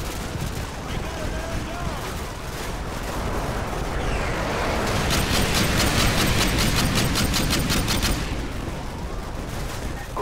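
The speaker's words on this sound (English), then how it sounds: "Artillery inbound." Artillery fire in Call of Duty Modern Warfare 2 booms and rumbles through dense battle noise, with rapid gunfire crackling over it and the din swelling loudest midway, while a voice speaks beneath.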